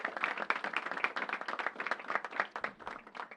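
Audience applause at a government announcement on youth violence programs. Brisk, dense clapping from a crowd, fairly close and continuous with an uneven, lively texture throughout.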